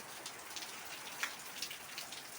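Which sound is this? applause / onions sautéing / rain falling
rain falling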